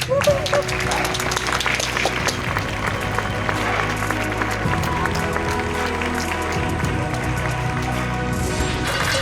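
Crowd in Paris clapping and cheering from a distance in support of medics, mixed with clattering and a person talking nearby over the noise.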